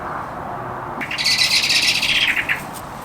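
Loud, high bird calls suddenly burst in, a dense chattering of chirps and squawks close by, over a low background hum, lasting a couple of seconds.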